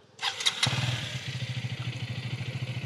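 A KTM Duke 250 motorcycle engine is started up close, with a short starter whir, then catches and settles into a steady, throbbing single-cylinder idle.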